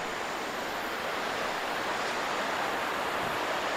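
A river flows beside a campsite pitch with fire pits, giving a steady, close rushing wash of water that holds evenly throughout with no voices over it.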